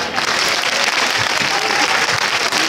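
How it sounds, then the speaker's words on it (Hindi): Dense, steady applause from a crowd at a children's religious quiz event, loud and close, sustained throughout with no pauses. "एक बार शासक के लिए तालियां।"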